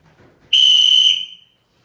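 A single shrill whistle blast, clear and steady for under a second and then fading out, loud and close after a brief quiet lead-in.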